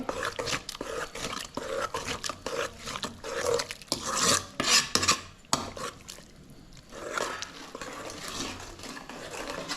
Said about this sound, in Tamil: இப்போ அடுப்பு ஆஃப் பண்ணிவிட்டு அப்படியே கடைஞ்சி விட்டுடலாம்